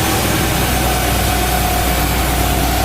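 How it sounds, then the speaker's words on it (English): A Darley tactical pumper fire truck on a CV515 chassis idles loudly and up close, a constant deep engine rumble with a steady drone and no voices. "you can then go ahead and bring the vehicle down to an idle"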